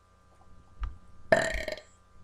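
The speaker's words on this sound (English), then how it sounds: "We're having a burping contest." A single loud, rasping burp rolls out for about a second during a sibling burping contest, following a brief short grunt-like sound just before it.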